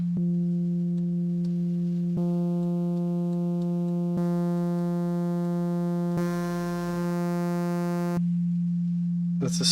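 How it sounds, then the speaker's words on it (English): A synthesizer with its tone control turned down plays a steady, pure sine-like tone, holding one pitch with faint clicks where segments change, alone and fairly loud throughout. "So if you turn the tone down, you get a sine wave."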